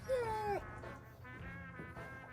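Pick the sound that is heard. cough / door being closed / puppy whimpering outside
puppy whimpering outside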